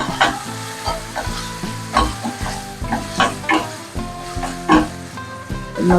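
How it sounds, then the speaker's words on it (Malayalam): Chopped tomatoes frying with onion, ginger and garlic for a fish masala curry, a steady sizzle with repeated scraping and stirring strokes of a utensil in the pan, close and fairly loud, no talking. "ഇനി നമുക്കിതിലേക്ക് നമ്മൾ അരിഞ്ഞു വെച്ചിരിക്കുന്ന തക്കാളി കൂടി ചേർത്ത് ഒന്ന് വാട്ടിയെടുക്കാം."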